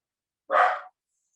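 A dog gives one short, loud bark up close, alone against silence.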